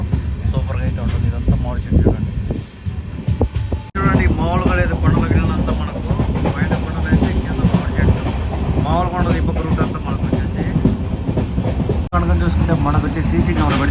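A Venkatadri SF Express train with LHB coaches, travelling from Chittoor to Tirupati, rumbles steadily with rhythmic clacking and rolling noise, loud and close, while people talk over it.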